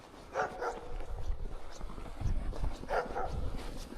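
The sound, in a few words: guard dog barking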